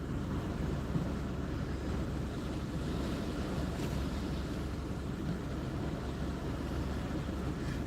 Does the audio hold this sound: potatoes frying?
no